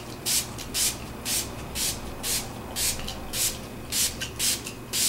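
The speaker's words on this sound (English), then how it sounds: "We've got our water spot pretreatment, and we're just going to apply a wet coat on it first" A water spot pretreatment is misted onto a mirror in about ten crisp, rhythmic spray bursts, each a short hiss close to the bottle, with a low background hum between them.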